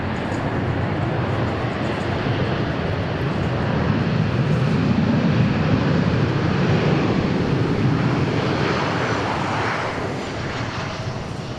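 An aircraft at Dallas Love Field airport, a loud sustained engine roar that swells in the middle and eases slightly toward the end, with no speech.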